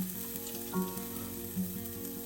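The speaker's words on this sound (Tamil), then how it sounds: "அதை முதல்ல வறுக்க போறேன்." Grated coconut and black pepper fry in a hot pan for a Tamil sardine recipe, giving a steady close sizzle with a couple of brief stirring scrapes.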